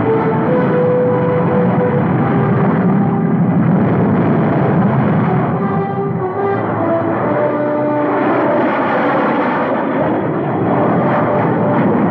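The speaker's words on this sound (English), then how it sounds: "Three unidentified transport planes." Several transport planes fly overhead as a loud, continuous engine drone with a steady roar, film soundtrack in the 1950s, with no voices.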